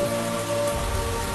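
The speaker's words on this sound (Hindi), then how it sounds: "अब इस बार बारिश का देखो, जब देखो तब हो रही है" Steady rain falling and pattering on surfaces, a continuous close wash of drops with no voices, heard during a rainy spell at home.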